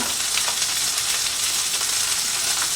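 Scallions and carrots sizzling in a hot pan, a steady bright hiss of frying that holds at an even level throughout, close and continuous with no talking.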